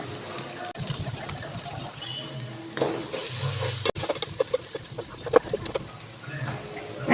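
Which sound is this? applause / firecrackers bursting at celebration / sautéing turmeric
sautéing turmeric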